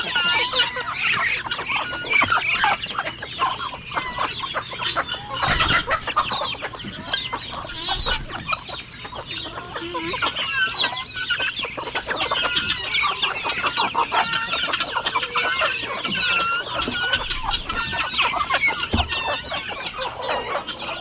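Constant high peeping and chirping from many ducklings and goslings, a dense, busy chorus that carries on nonstop, with no talking.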